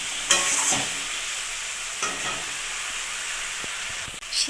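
Tomatoes and spice paste stirred in a pan for a rui fish and ash gourd curry, giving a steady close sizzle with a few scraping stirs and brief clatters.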